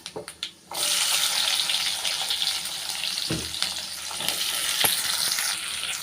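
Finely chopped shallots tipped into hot oil burst into a loud, continuous sizzle right after a few soft taps, the frying hiss staying strong and close with occasional clinks, no one speaking.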